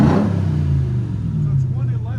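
A RAM TRX truck engine fitted with a Dynomax race bullet exhaust holds a loud, deep, steady rumble near the microphone, with a brief rev at the start and voices talking faintly over it.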